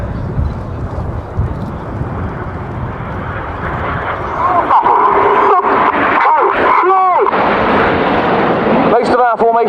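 Red Arrows jet aircraft in a display turn at an air show, a loud roaring rumble swelling midway and holding, with a narrator talking over it.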